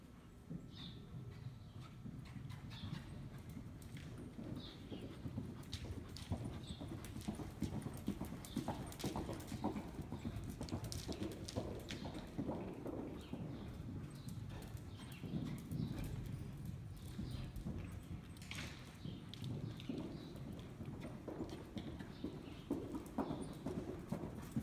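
A horse cantering under a rider, its rhythmic hoofbeats in steady clip-clop cadence throughout, moderately close with faint background noise and no talk.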